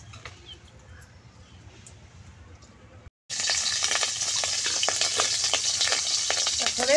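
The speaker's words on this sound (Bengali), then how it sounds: "কয়রা গরম হয়ে গেছে, এখন তেল দিয়ে দিব।" Oil poured into a hot wok starts a sudden loud sizzle after a quieter stretch of faint kitchen noise, then keeps hissing steadily and close until the end.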